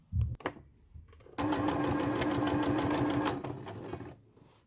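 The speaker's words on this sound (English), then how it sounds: "So, over to the sewing machine" A sewing machine stitching a lap zipper runs in one continuous burst of rapid, even needle hum for a few seconds, close and clear, preceded by a few handling knocks and stopping abruptly.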